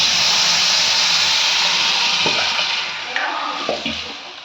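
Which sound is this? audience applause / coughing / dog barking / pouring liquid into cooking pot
pouring liquid into cooking pot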